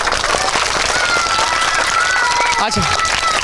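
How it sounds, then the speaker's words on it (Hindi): An audience clapping for a young boy who has just recited the alphabet, dense continuous applause from a crowd close by, with a voice talking over it. "इस बच्चे के लिए ताली बजाइए आप सभी"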